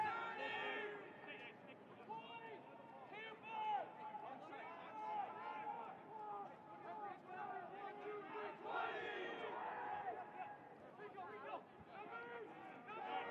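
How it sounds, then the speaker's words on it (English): Lacrosse players on the benches shout calls during a Rocky Mountain Lacrosse Conference semifinal between Utah Valley and Colorado State at Canvas Stadium in Fort Collins; a steady stream of loud overlapping shouted voices, with crowd noise, runs throughout. "You hear the benches making their calls again through our crowd microphones here at Canvas Stadium in Fort Collins"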